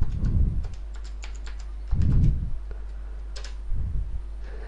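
A computer keyboard being typed on to enter a password in SAP user administration: scattered soft key clicks alongside three short low thumps, fairly close and with nobody talking.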